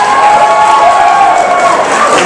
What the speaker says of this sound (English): And a round of applause for Gordy